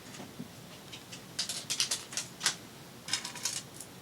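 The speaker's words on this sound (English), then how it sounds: "so now we're going to score this and fold it up" Paper being scored and folded for a sepia-toned craft project makes quiet, close crisp scrapes and creases in irregular bursts, a few clustered scratches followed by a pause, then another short run of crackling strokes.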